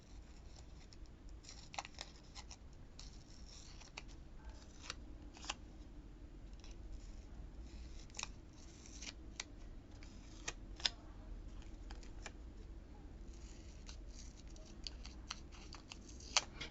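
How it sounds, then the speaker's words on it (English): Scissors snipping the white border off a paper planner sticker, a quiet series of small crisp cuts and rustles spread irregularly through a soft, low background hum, with no talking. "Maybe I'll just cut some of that white off. Do some sticker surgery, as they say."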